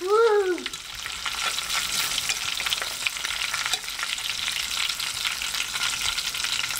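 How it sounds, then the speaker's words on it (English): Mangrove snapper sizzling steadily in boiling oil, a dense, constant frying hiss after a brief squeal at the start, close and loud with no voices. "And it's going in boiling oil,"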